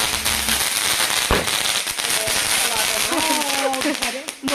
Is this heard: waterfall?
no